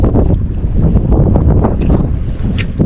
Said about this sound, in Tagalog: Lakas master yung hangin.